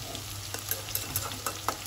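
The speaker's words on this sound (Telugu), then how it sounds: "సో ఇలా నూనెలో ఫ్రై అవ్వాలి." Wild bitter gourd pieces frying in oil, a faint steady sizzle with light stirring taps and a few small metallic clicks, heard up close with no talking.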